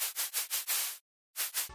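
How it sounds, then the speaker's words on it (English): A white-noise synth lead for an emotional future bass track pulses in five bright, hissing bursts, falls silent briefly, then returns for two more pulses before a low tone cuts in. "For the lead, start with white noise."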